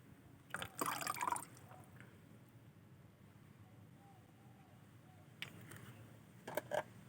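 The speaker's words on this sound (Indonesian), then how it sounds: "Kemudian kita memasukkan M4 atau bakteri fermentasi ke dalam toples ini." A small amount of M4 fermentation bacteria liquid, about ten millilitres, poured into a jar: a short splashing trickle near the start, then faint quiet, with a couple of brief drips or taps at the end.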